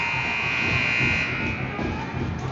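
A long, steady electronic end-of-period buzzer at a youth ice hockey game drones loudly over a noisy arena crowd, holding one harsh tone for the whole stretch.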